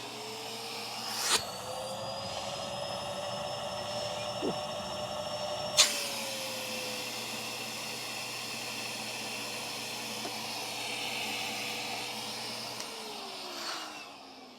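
A Henry Petcare vacuum cleaner motor runs steadily during a sealed suction test with a droning whine, its pitch shifting slightly as the suction changes, with a couple of sharp clicks.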